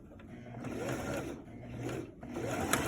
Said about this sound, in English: And now we need to start sewing the color stand with 1/2 inch seam allowance.